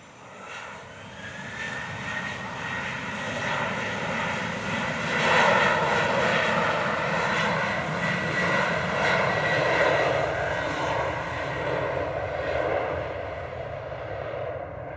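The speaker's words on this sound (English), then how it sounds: "Watch the climb rate of this Delta aircraft." A Delta jet airliner takes off from runway 07 at a Jamaican airport, its engines roaring loudly and steadily for the whole stretch with no talk over it.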